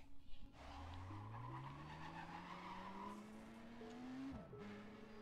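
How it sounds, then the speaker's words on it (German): A Mazda RX-7 spins its tires in the racing game Need for Speed World, a rising engine whine climbing steadily over a rough skid before a sharp drop as it shifts, loud and close. "er hat schon einen ziemlich krassen Wheelspin."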